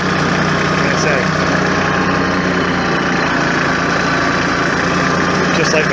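A Massey Ferguson 1433 4x4 compact tractor engine idling nearby, a loud, steady diesel rumble and drone that holds constant throughout.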